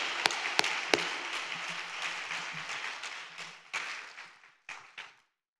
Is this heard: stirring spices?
no